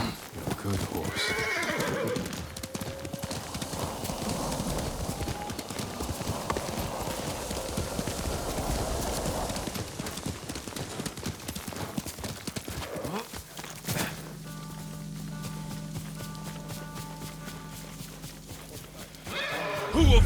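Horse in Ghost of Tsushima, hooves clip-clopping in a brisk rhythm with a loud whinny early on, then the gallop fades as a steady droning ambience takes over near the end.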